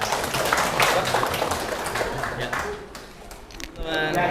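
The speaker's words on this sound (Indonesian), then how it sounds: "Tepuk tangan dong buat Abangnya." A school audience at SMA Negeri 1 Cikampek claps for a guest speaker, producing a dense patter of many hands that carries over the first seconds and then thins out, with voices over it near the end.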